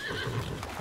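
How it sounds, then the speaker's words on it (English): A horse in the video game Assassin's Creed Valhalla gives a short whinny with hoof clip-clops, heard briefly and fairly faintly under game sounds. "Horse!"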